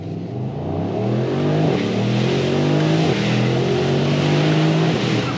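A Mercedes SL 63 AMG engine accelerates hard with a manual gear shift, pitch climbing steadily with a brief dip at the shift, loud and continuous with road noise.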